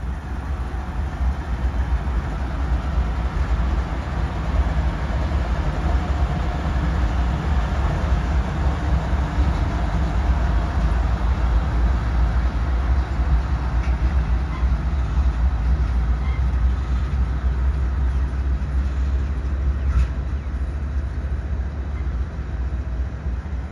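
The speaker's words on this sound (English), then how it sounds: "We also caught the pair of GEs returning to Cowan Yard, where they'd be shut down until the next southbound arrived." A pair of GE diesel locomotives rumbles past near Cowan Yard, a steady, heavy low drone of engines and rolling wheels that holds at the same level for the whole stretch, with no voices.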